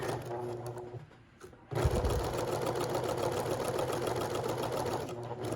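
A sewing machine back-stitching along a collar, its motor whirring in a steady, close run after a brief pause and a softer start, with no voices over it.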